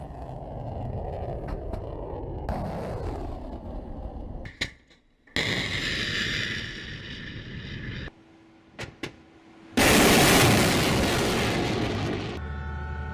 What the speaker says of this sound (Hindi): S-400 सिस्टम से सरफेस टू एयर मिसाइल दागी गई